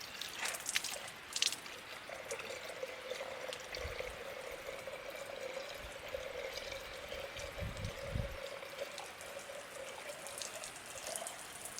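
Water poured into a tube funnel of a greenhouse automatic watering system trickles and sloshes steadily through the tube, with faint drips and a low gurgling hum throughout.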